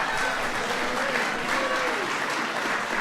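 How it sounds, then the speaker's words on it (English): Audience applause at a White House event welcoming the Louisville Cardinals basketball team, a dense, steady clapping from a sizable crowd that fills the whole stretch. "go ahead, give Tim a big round of applause"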